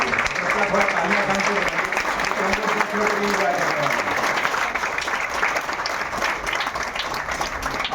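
A crowd at an SBI Day gathering applauding, a sustained wash of dense clapping lasting the whole stretch, loud and steady, with a voice speaking over the early part.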